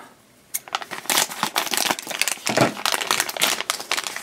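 Plastic toy blind-bag packaging crinkles and rustles up close in rapid, irregular bursts, with crackling handling noises continuing after a brief quiet start.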